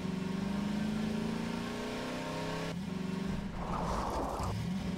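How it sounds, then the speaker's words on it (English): A car in the game Half-Life 2 drives with a loud, continuous engine drone that rises in pitch as it accelerates, then shifts down with a rough, gritty rumble; no one speaks. "Just get in the car and drive."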